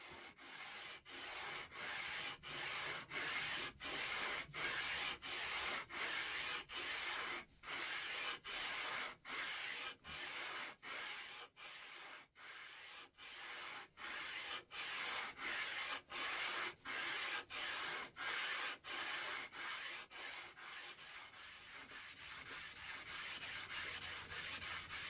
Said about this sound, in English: Now I'm going to move up through grits with this smaller block.